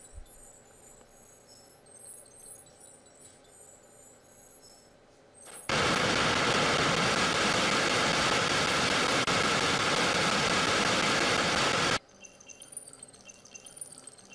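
Nuclear rocket engines firing in the Kerbal Space Program video game: a loud, steady, broadband roar kicks in abruptly and holds for about six seconds before cutting off, with quieter game ambience before and after.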